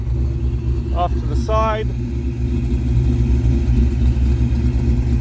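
A 427 Windsor V8 in a Foxbody Saleen Mustang idles at about 1,000 RPM through an aftermarket exhaust, a steady deep burbling drone heard from about ten feet away while someone briefly speaks over it.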